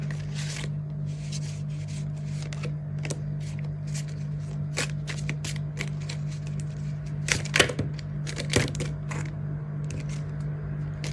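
Tarot cards being shuffled indoors, a steady run of soft riffling and flicking with a few sharper card snaps near the end, close up over a constant low hum, no talk.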